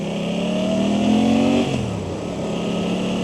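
Suzuki GSX-8R motorcycle with stock exhaust and an ECU flash, revving up close as the engine note climbs, holds briefly, then drops back to a steady idle rumble.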